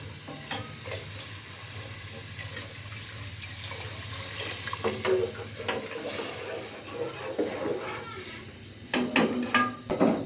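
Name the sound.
pouring water into pot for karhi pakora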